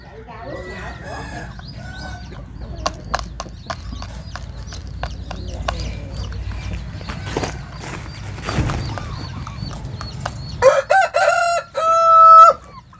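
A rooster at a chicken farm crows loudly and close near the end, following a stretch of busy farmyard clatter, clucking and scattered knocks.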